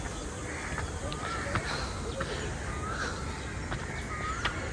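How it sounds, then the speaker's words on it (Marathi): Crows cawing repeatedly in the morning near a hilltop temple beside a national park, several distinct calls spread across a steady outdoor background of other birds. "पक्ष्यांचा मस्त आवाज येतो आहे"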